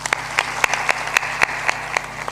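An audience at a Hindu religious discourse claps in steady rhythmic unison, with about nine sharp, evenly spaced beats and no talking over them.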